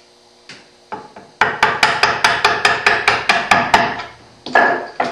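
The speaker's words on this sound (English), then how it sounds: "You could almost do this without the mallet, but if you use the mallet very lightly, it's generally with acceptable results." Mallet tapping a chisel to chop hand-cut wood dovetails, a few scattered light knocks leading into a steady run of about ten evenly spaced sharp taps, then a couple more, close and clear with no talking.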